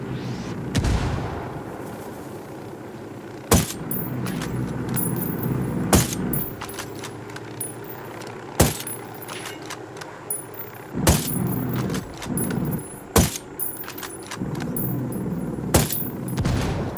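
Gunfire and heavy cannon blasts in the shooter game Ghost Recon Wildlands, loud sharp bangs spaced every few seconds over a rumbling, noisy combat background.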